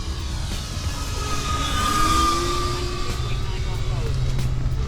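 An FMS P-47 Razorback 1500mm RC model fighter plane flies overhead with a steady, fairly loud electric motor whine that rises slightly mid-pass, heard alongside wind noise and a person talking throughout.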